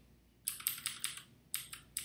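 Computer keyboard arrow keys are pressed about eight times, sharp close clicks in two quick bursts with a short pause between, over faint room hiss.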